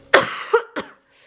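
A person with a heavy cough, recovering their voice, gives one sharp close cough followed by two shorter, weaker coughs in quick succession.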